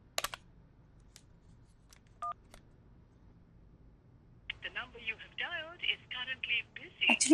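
A quiet telephone handset dialing out: a short dial tone beep and a few clicks, then a warbling electronic ringback, with a voice speaking near the end.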